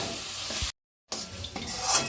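Spiced paste and sugar stirred in a frying pan for a Bengali kochubata prawn dish, a close sizzle with scraping strokes broken by a brief silent gap.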